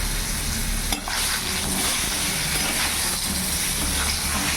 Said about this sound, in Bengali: এবার ওই তেলের মধ্যে পটলগুলো ভেজে নেবো।